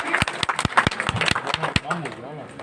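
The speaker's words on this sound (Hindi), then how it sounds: "जोरदार तालियां सुल्तान जी के लिए।" Scattered, irregular hand claps from a small crowd at a street gathering of traders in Nandlal Chowk, honoring Sultan ji; sharp, fairly close claps that thin out toward the end.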